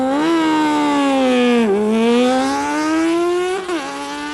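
A 1994 Suzuki GTS 750 motorcycle at a drag race, its engine screaming at high revs with a strong whining tone that rises through gear changes, loud and continuous.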